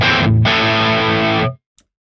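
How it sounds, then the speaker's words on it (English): An electric guitar played through an overdrive pedal rings out one saturated, harmonically rich chord, briefly dipping before sustaining loud and close, then cutting off abruptly into silence. "First, the overdrive pedal."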